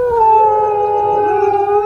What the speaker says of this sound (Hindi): जंगली कुत्तों की आवाज है।